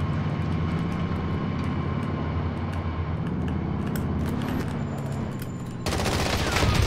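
Rapid gunfire in Call of Duty: Warzone aimed at a car, dense sustained shooting over game ambience, followed by a louder burst or explosion-like wash near the end.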